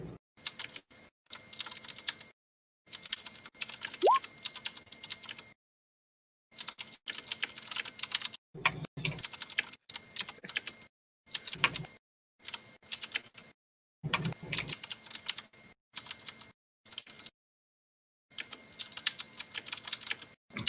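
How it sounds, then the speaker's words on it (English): Bursts of computer keyboard typing, close and fairly quiet, coming in irregular clusters of rapid keystrokes separated by short pauses, with no talking. "I hear a lot of typing."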